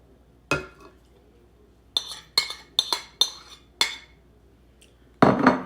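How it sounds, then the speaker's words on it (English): Corn casserole ingredients, including melted butter, being mixed in a greased casserole dish, with a series of sharp utensil clinks and scrapes against the dish, about six distinct strikes followed by a louder clatter at the end. "I'm just going to mix all of this together"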